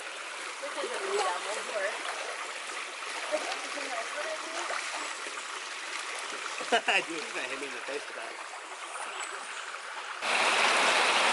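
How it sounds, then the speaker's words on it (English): Creek water flows steadily down in a Puerto Rico ravine, a continuous broadband rush with a brief splash, under near voices talking throughout. "we made it down to the creek"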